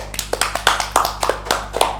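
Hand clapping in a small studio setting, a handful of distinct claps at a fairly even rhythm, close and clear over a steady low hum.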